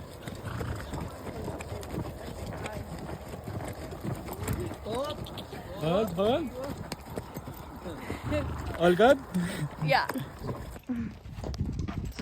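Horse hooves clip-clop at a steady walking pace during horseback riding in Amman, close by, under occasional talk and some rustling background noise.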